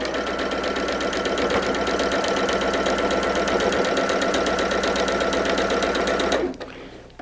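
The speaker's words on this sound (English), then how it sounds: "it's sewn by putting the pieces round and round around the center" A sewing machine stitches quilt block pieces for a tulip star block, running at a fast, steady, even whir for about six seconds before slowing and stopping, then a faint click.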